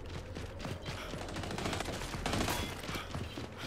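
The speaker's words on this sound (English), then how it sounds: "I'm getting shot in cover." Video game gunfire in a close-quarters firefight: dense, overlapping bursts of automatic shots and rapid single cracks, loud and near, continuing without pause for a few seconds.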